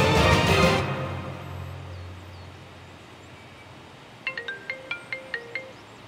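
A phone rings while a call is placed, a short electronic melody of about eight evenly spaced bright beeps near the end, after a brief burst of noise and a quiet pause.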